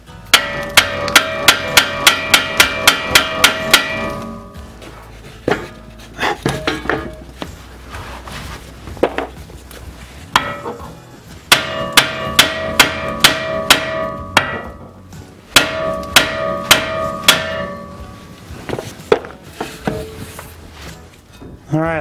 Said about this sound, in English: then you can strike on the castle nut and save your threads